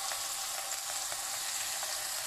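Marinated fish fillets pan-fry in chermoula sauce with a continuous bright, close sizzle and faint crackles throughout, with no talking.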